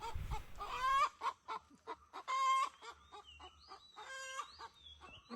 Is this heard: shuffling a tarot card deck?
no